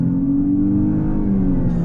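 A 2021 Dodge Charger GT with its 300-horsepower V6 pulls hard under acceleration, a steady, loud engine drone rising slightly in pitch throughout, heard from inside the car with no talking.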